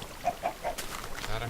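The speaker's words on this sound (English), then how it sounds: "Thank you, chicken." A Minecraft chicken gives three short, evenly spaced clucks, fairly close, followed by soft background noise and a faint voice.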